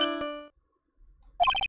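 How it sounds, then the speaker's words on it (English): Phone ringtone in the video game Phoenix Wright: Trials and Tribulations, a bright chiming electronic jingle that rings briefly, pauses, then starts again in quick tonal pulses, loud and close with no speech over it. "What kind of ringtone is that?"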